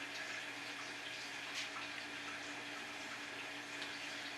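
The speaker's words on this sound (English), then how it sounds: "So we are currently sparging." Water runs steadily during sparging while brewing a Kölsch beer, a continuous faint trickling and hissing flow that stays even throughout with no talk over it.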